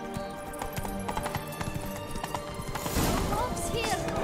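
A horse galloping in the video game The Witcher 3: Wild Hunt Next-Gen, its hoofbeats a steady, continuous clip-clop under dense game music and ambience.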